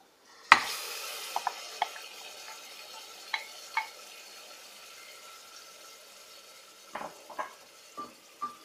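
Marinated mutton for laal maas tipped into browned onions in a hot pan on high flame, with a sharp initial sizzle, then a steady hiss and clicks of a spoon stirring.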